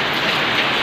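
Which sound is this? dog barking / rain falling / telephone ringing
rain falling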